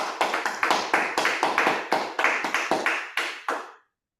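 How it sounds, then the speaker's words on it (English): A single person claps by hand at close range, about fifteen distinct claps in an uneven rhythm that slows slightly, then stops, leaving silence. "You, sir, deserve a round of applause for that."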